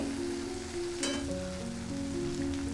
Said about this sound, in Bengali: মশলাটা ততক্ষণ কষিয়ে নিতে হবে যতক্ষণ না মশলাটা থেকে তেল ছাড়তে শুরু করে।